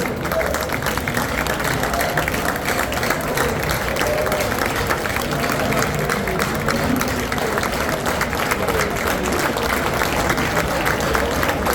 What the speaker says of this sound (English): So let's start the clapping.